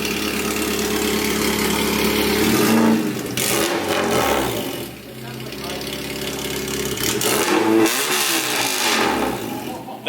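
A Honda Integra engine running with no exhaust fitted revs up and down loudly and raw, rising and falling through several pulls, with people talking over it nearby.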